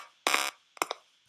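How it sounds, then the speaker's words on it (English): Loud electronic beeps from a sound source in a 3D virtual environment, one long tone followed by shorter bursts, heard alone. "I can hear the beeping, so I'm assuming it's within 10 meters. It's louder as I go closer."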